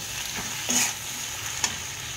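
Green beans frying in a pan with turmeric, salt and Kashmiri chilli powder, a steady close sizzle with a couple of brief stirring scrapes.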